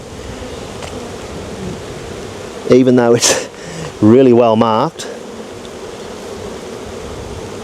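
Honey bees hum in a steady, soft drone around an open hive during a brood inspection outdoors under trees, while someone speaks briefly in two short bursts over the buzzing.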